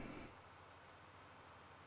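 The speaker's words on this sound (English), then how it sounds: "I hope it stops raining soon." Steady rain pattering in Farming Simulator, a soft broadband hiss that holds evenly throughout, slightly louder at the very start, with no voices over it.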